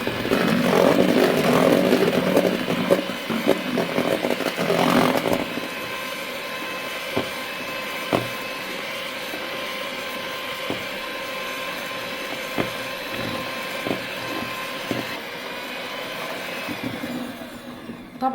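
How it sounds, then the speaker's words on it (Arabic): An electric mixer whirs loudly through cake batter for the first five seconds, then the motor drops to a quieter steady hum broken by a few sharp knocks and clicks. "وراح ابدي اخفقها هاي همينة وياهم"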